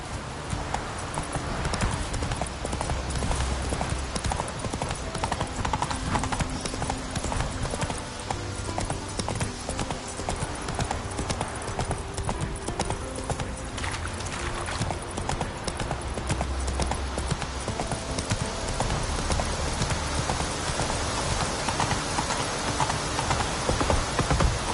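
Horse hooves clip-clop at a steady trot in The Witcher 3 video game, a continuous close rhythmic patter running throughout over a dense game soundscape.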